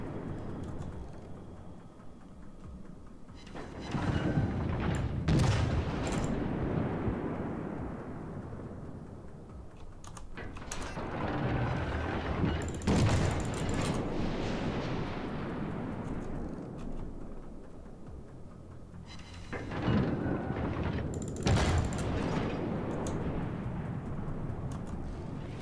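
Naval gunfire from two battleships and a cruiser in World of Warships: several heavy, rumbling booms arrive in clusters with long rolling tails, over a steady background roar.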